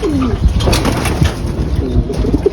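Racing pigeon, a newly caught bird from a loft club, cooing in low repeated rolling calls close by, with rustling and faint background noise throughout.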